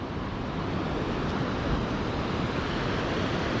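Ocean waves wash onto a beach in Da Nang, Vietnam, as a steady, loud roar of surf, with wind buffeting the microphone throughout and no voices.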